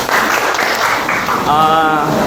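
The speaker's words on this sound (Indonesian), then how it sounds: "tepuk tangan untuk kita semua" Classroom applause from students at a morning lesson, a dense, steady patter of clapping filling the whole moment, with a voice briefly rising over it near the end.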